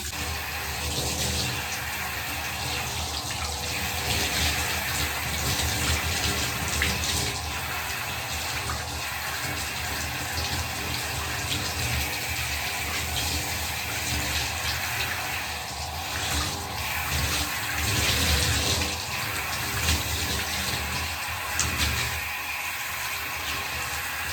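Water runs steadily from a tap, a continuous splashing rush with slight shifts as hair is rinsed of an egg mask under the stream.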